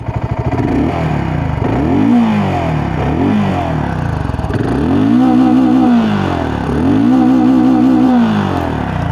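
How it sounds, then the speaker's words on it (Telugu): Loud, close exhaust note from a 2026 BSA Scrambler 650 motorcycle, with repeated rising and falling revs cycling throughout over a steady engine rumble. "ఫ్రెండ్స్ ఒకసారి ఎగ్జాస్ట్ సౌండ్ వినండి."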